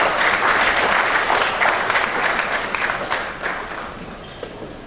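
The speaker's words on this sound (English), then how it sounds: "Please another round of applause for her." Loud, full applause from a conference audience at a summit, many people clapping together, strong at first and gradually thinning out over several seconds.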